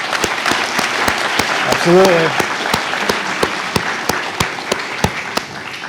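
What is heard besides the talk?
audience applause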